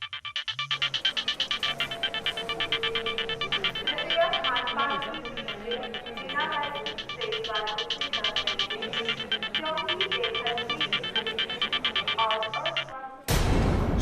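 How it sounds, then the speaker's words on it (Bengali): A mobile phone rings steadily and fairly loud through most of the stretch as a repeating electronic tone, with music-like layers and voices in the background, then cuts off near the end. "অনেকক্ষণ থেকে আপনার ফোন বাজছে"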